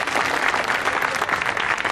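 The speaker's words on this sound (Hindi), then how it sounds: "ताली बजा सकते हो, बजा सकते" Dense, loud applause from an audience at a Hindi poetry gathering in Danganiya, Raipur, steady clapping filling the whole moment with no pauses.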